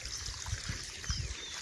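Irrigation water trickles and gurgles steadily into a farm field, a close, continuous running flow with low splashy bursts and no voices.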